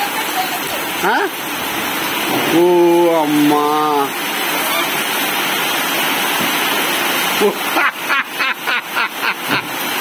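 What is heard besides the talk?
heavy rain falling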